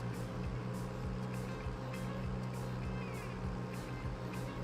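A tractor driving in Farming Simulator 22 gives a steady, low, droning engine hum that runs unbroken throughout at a moderate level.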